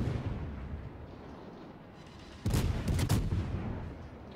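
Cruiser main-battery gunfire from the Tier X French cruiser Colbert in the naval game World of Warships: a low background rumble, then a loud burst of several quick cannon shots at close range, fading into a rolling boom.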